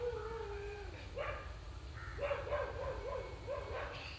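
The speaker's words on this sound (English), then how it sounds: "Do you listen to that dog?" A dog barking somewhere outside during a public talk in Madras, a few faint distant yips and barks in quick bursts over low room hum, with no talk.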